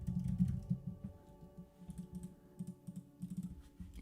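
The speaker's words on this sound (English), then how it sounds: "if I come in here and I start typing" Fingers type on a computer keyboard during a coding session, quick irregular bursts of soft close keystrokes with brief pauses between.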